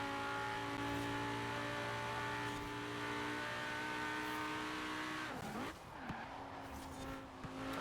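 Race cars including a Lamborghini accelerate in Forza Horizon 4, their engines droning in steady sustained tones with a couple of sharp shifts near the end, heard alone without talk.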